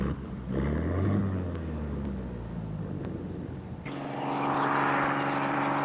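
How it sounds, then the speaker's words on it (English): An agricultural aircraft lands in gusty wind, its engine droning steadily, then rising sharply in power partway through as the pilot keeps it straight on the ground; loud and continuous, no talk. "The pilot is now using power with minimal braking to keep the aircraft straight in these gusty"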